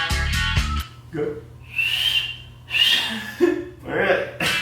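Someone attempts to whistle, making a few breathy, airy whistles after a short burst of voice. The attempts are uneven and only partly tonal.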